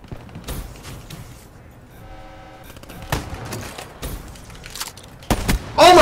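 Video game gunfire on the Skyjacked map comes as scattered sharp shots and thumps over a busy background, building to a loud, dense burst at the very end.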